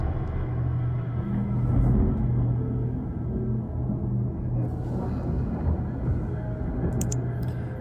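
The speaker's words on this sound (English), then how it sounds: "The sound of thunder is still far away, but may be slowly getting closer." Distant thunder rolls in a video game mystery set outside a mansion on Shironagasu Island, a continuous low rumble that swells and fades faintly in the background.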